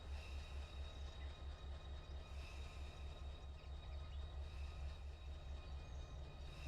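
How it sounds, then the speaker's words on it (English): Train passing in the Run8 railroad simulator game, a continuous low rumble with regular rhythmic thumping from the railcars, steady and moderately loud throughout, with no talking. "All right, here comes the train."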